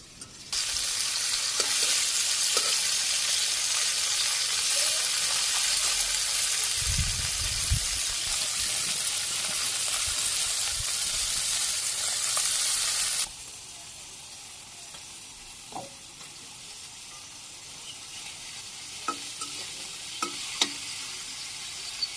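Small fish fry in a pan with a loud, dense sizzle for about thirteen seconds, then the sizzle drops abruptly to a quieter background with scattered light clinks and taps.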